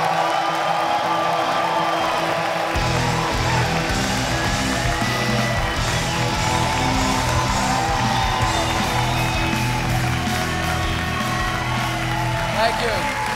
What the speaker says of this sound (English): please have a big round of applause for Magnus Betnér!